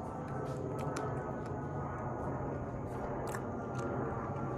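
Someone bites into and chews a cupcake close to the mic, with soft crunchy mouth sounds over a steady broadband background hum and no talking.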